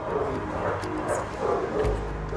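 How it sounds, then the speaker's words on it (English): Several rescue dogs bark and yip inside a house behind a closed door, muffled and fairly steady, heard from outside with a low background rumble. "You know the dogs, it's clear they're in."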